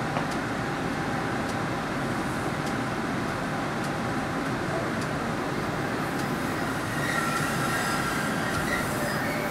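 An MBTA Green Line B Branch light rail train runs through Boston with a loud, steady rumble of wheels and motor, faint rhythmic rail clicks, and a thin wheel squeal rising near the end.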